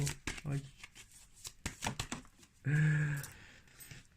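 Tarot cards being shuffled, with quick papery riffles and soft flicks in short bursts. Someone talks over and between them.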